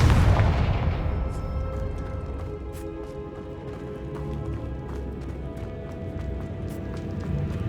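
A Confringo fire spell bursting in Hogwarts Legacy, a heavy boom at the start with a rumbling, crackling tail that fades over several seconds amid steady game ambience.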